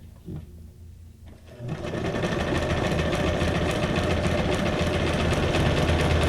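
A sewing machine stitches paper junk journal ephemera, starting after a couple of soft handling clicks, then running steadily and loudly with a fast even mechanical whir throughout.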